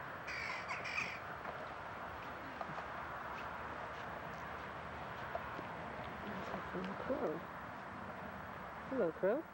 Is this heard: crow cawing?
yes